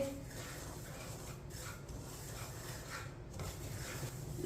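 A spoon scrapes and rubs steadily against a pan as semolina is dry-roasted on low heat, a soft continuous stirring sound close by.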